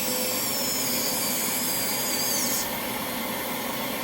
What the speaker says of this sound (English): It's a big round burr